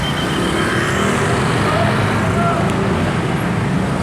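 Busy Indonesian street traffic, a steady close wash of car, motorbike and bus engines with road noise running without a break, voices mixed faintly into the din.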